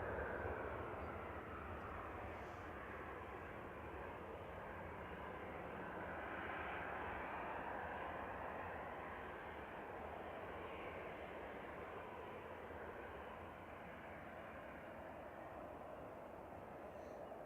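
A plane's aircraft engine roars steadily at Manchester Airport, a broad, sustained rumble that holds for the whole stretch with no voices over it.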